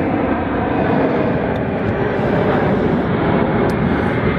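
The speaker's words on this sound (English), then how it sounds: "As you can probably hear, there's a plane flying over at the moment." A plane passes overhead near Sydney Airport as a steady, broad, loud roar of jet engine noise lasting throughout, with no talking.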